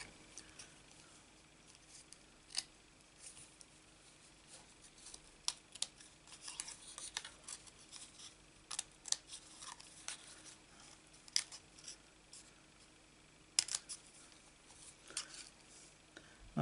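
A craft project: scissors cutting the centre out of a stamped paper card, with soft, close snips and rustling paper in scattered bursts, some sharper clicks, and no talking.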